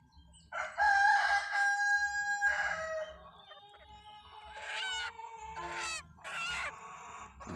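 A rooster crows several times close by during a ritual procession in Sulawesi, its long drawn-out calls repeating amid clucking chicken sounds and a low background hum.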